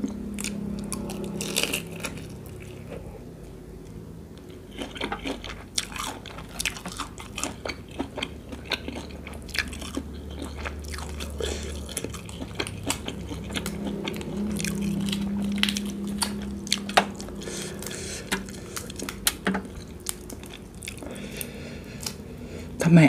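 Bucket-cooked shrimp with firm, meaty heads being bitten and chewed close to the mic, a steady run of soft squishy bites and crunches, with a voice murmuring at points.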